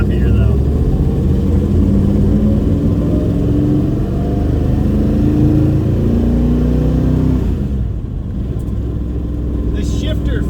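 A car idles steadily after a new clutch and flywheel were fitted, its engine a close, constant low rumble with a ticking tappet noise, while someone talks over it.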